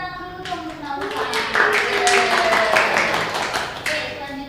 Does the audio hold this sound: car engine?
no